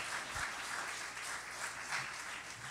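A church congregation applauds during an evening service, a faint, distant wash of steady clapping that holds evenly throughout.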